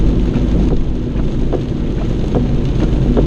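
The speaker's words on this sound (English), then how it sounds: "the storm's like really bad right now. Not the rain, but the lightning" Rain and storm noise heard from inside a car driving on a dark road in Raleigh during a bad lightning storm: a steady, dense broadband wash with scattered soft impacts, no voices.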